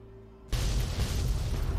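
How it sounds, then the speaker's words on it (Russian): An explosion in the video game Fallout 3 erupts abruptly after a quiet hum, a loud, close, broadband blast that keeps roaring and rumbling without fading. "Так, действительно все взрывает."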